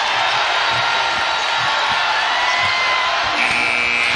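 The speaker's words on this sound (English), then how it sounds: "Crowd has come alive." A basketball arena crowd cheers and roars steadily during a game between Arizona and North Carolina, a dense wash of noise with a whistle-like tone near the end.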